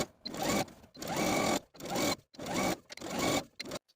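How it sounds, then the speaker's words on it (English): A sewing machine edge stitching along the serged hem of a dress runs in four short, steady whirring bursts with brief pauses between them, close and clear with no talking. "edge stitch close to my serging stitches all the way around the bottom of my dress"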